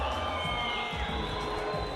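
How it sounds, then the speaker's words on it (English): A sold-out arena crowd at a cage fighting event cheers and roars for a hometown fighter's entrance, a loud sustained wash of voices and applause with no break. "The sold-out crowd very appreciative of the hometown fighter."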